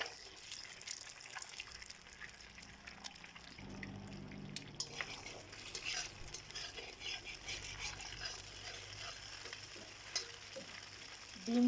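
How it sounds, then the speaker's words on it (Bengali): An egg frying in a pan, a low steady sizzle that swells a little after a few seconds, with faint occasional ticks and scrapes. "ডিমটা এখন আমি ভালোভাবে ভেজে নেব।"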